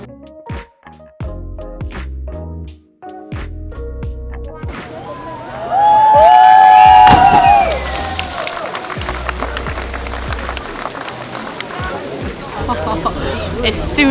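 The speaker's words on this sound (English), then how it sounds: "there seems to be a crowd getting together" A crowd gathers on the old stone bridge in Mostar, Bosnia and Herzegovina, as a diver prepares to jump, with a steady outdoor babble of many voices and a burst of louder chatter and cheering midway.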